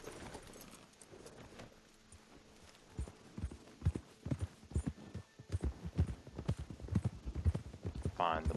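Horse hooves clip-clop in Red Dead Redemption 2, starting sparse and building into a steady trotting rhythm, fairly close, with ambient game hum and a brief chirp near the end.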